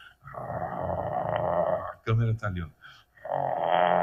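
A person imitates a threatening dog, letting out two sustained throaty growls separated by a short burst of speech, loud and close to the mic.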